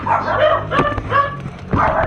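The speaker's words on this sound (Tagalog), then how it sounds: "sorry kung yung mga aso maingay" Several dogs bark and yip nearby in short, repeated bursts, loud and overlapping.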